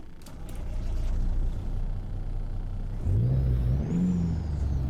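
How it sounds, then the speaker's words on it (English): Kenworth W900 truck engine in American Truck Simulator starts up and settles into a steady, loud idle, with a low rumbling drone and a brief rising whine, heard alone with no talking. "Let's turn the truck on and see what it sounds like."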